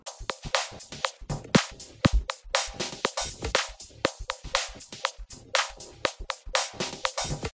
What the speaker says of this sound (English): in the percussion we have a hi-hat and other miscellaneous percussion type sounds.